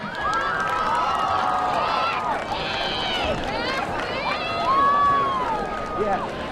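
A crowd cheers and applauds at a high school senior night, welcoming a senior cheerleader from the cheer squad, with a sustained roar and whoops under an announcer's voice over the PA.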